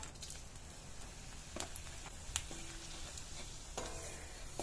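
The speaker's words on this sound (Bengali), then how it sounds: "মাছ ভাজা তেলের মধ্যে আমি ফোড়ন দেব" Whole cumin, cardamom, cinnamon and a dry chilli sizzle in oil left from frying fish, a soft, quiet crackle with a few sharp spatters and stirring clicks, no talk.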